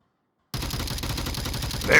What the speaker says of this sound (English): There it is, the headshot.